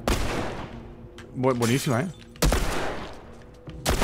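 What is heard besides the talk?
gunshot warning shot in The Last of Us video game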